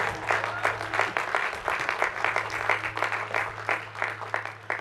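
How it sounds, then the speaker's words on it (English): A large commencement crowd at Delaware State University applauds the faculty, with sustained, rippling clapping and individual sharp claps standing out, alongside a low steady hum. "please join me in a round of applause to your faculty"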